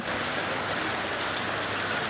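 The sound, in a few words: heavy rain falling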